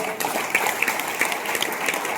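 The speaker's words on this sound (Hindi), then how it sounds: "एक बार तालियां सबके लिए बजाएं जोरदार" An audience claps loudly for everyone at a network marketing seminar, steady dense applause with scattered louder claps.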